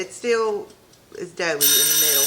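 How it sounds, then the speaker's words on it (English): A kitchen timer beeps during baking, bright repeated electronic tones that come in over someone speaking nearby and ring out loudly at the end. "That's my alarm to check it"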